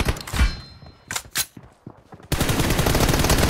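Gunfire in PUBG Mobile Lite, with a few heavy single shots and thuds first, then a sustained rapid burst of automatic fire that runs loud and close to the end.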